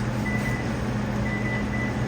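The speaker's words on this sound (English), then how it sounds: "It's the timer." A kitchen oven timer beeps in two steady electronic pulses while frozen Nestle Toll House chocolate chip cookies bake, heard close against a humming room background.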